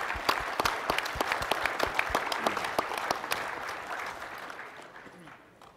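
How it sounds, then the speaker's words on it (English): Audience at a live gaming convention panel claps in a dense, sharp burst that holds steady and then gradually fades away. "I think that deserves a clap."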